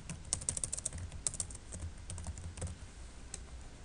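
Rapid typing on a computer keyboard at close range, with quick irregular clicks in bursts and short pauses, fairly quiet and with no one talking.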